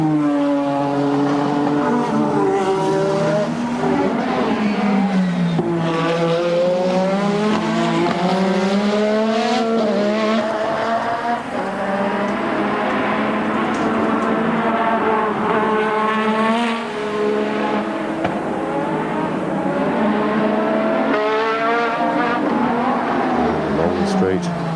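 A 1986 Formula One race car screams around the Australian Grand Prix circuit in qualifying near 200 mph, its engine note repeatedly climbing and dropping through gear changes and hard braking downshifts, with commentary running over it.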